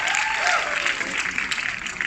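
Audience applause at a Barbie question-and-answer event, a dense, close patter of clapping with crowd noise, steady over the short stretch.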